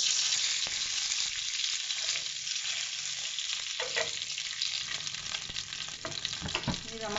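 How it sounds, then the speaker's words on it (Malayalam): Mustard seeds, dried red chili and curry leaves fry in hot oil for a mango pickle, giving a loud, steady crackling sizzle with sharp pops throughout and no voices. "കടുക് പൊട്ടി കഴിയാറാകുമ്പോൾ ഞാൻ അതിനകത്ത് ഒരു വറ്റൽമുളക് ഇട്ട് കൊടുക്കുന്നുണ്ട്"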